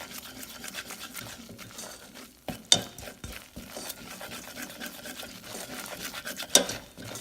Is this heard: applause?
no